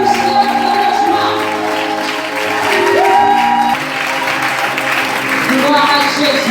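A church congregation applauds and cheers in praise, a steady wash of clapping and raised voices filling the room throughout, with a sustained tone from music running underneath.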